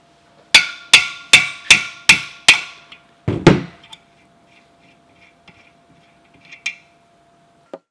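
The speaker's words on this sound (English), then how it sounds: "we're just going to tap this on the end with the hammer to remove the bearing" A hammer taps the end of a bolt to knock out a wheel bearing on a 20 mm axle adapter: six sharp, evenly spaced metallic strikes, then a heavier clunk as the bearing drops, followed by faint small clicks.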